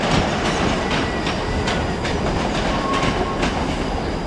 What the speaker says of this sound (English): with a Scotrail service from Edinburgh Central, the 12:52 service from Edinburgh Central.